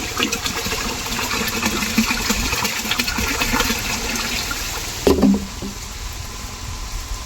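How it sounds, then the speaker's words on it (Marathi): Liquid fertilizer poured from a bottle into water for mixing, a continuous gushing, splashing pour at close range, ending in a brief louder splash near the finish. "ही या पाण्यात टाकूयात."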